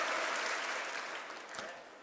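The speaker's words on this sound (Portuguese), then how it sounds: "Um aplauso para você. Aplauso." An audience at a church gathering claps briefly, a moderate wash of applause that gradually fades, ending with a single sharper sound near the close.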